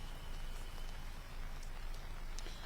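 Steady rain falling in Dehradun, Uttarakhand, a dense continuous hiss with scattered drop patters, moderately loud and without voices.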